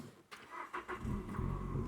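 A repaired car, its sensor just replaced and fault codes cleared, cranks briefly and then catches, settling into a steady low engine rumble at close range with no talking.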